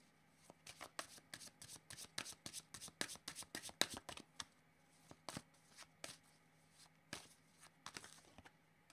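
A deck of oracle cards is shuffled by hand in a quiet room, a series of soft, crisp riffling flutters and taps coming in quick irregular bursts, close and faint.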